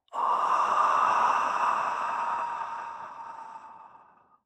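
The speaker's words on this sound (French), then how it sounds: "Ça commence par une grande inspiration. Et ça expire totalement." A single deep breath drawn in and then let out in a long, full exhale, loud and close, tapering off gradually over a few seconds with no talking.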